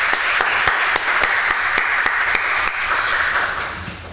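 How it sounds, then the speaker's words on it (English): Seminar audience gives a round of applause at the close of a law and economics session, dense steady clapping with a few sharp individual claps standing out, loud and close, no voices. "good round of applause."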